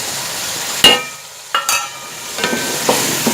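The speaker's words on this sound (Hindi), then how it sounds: "अब इन तमाम चीज़ों को अच्छी तरह से मिक्स कर लें।" Chicken powder, black pepper, green onion and carrot stir-fried in a pan, with a few sharp scraping stirs over a light, intermittent sizzle.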